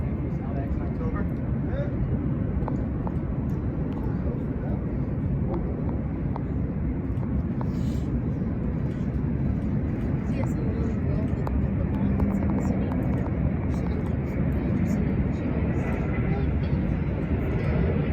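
Jet airliners at LAX heard from a rooftop: a steady, heavy engine roar that holds for the whole stretch, with some faint background noise on top.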